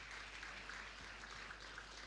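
Audience applause at a student leaders' meeting, a steady wash of clapping from a crowd that holds at an even, moderate level for about two seconds with no voices over it.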